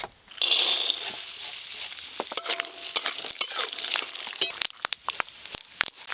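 Peanuts dropped into hot oil for chutney: a sudden loud sizzle that settles into continuous frying hiss, scattered with sharp crackles and pops close by.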